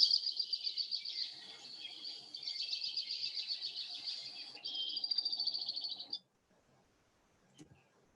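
A Hawaiian creeper, a small forest bird that creeps along branches foraging for insects, gives clear, rapid trilled calls in several runs that end abruptly, then a faint rustle. No voices.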